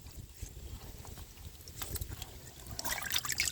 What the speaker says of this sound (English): And now I'm going to wash them up in the water that I brought with me.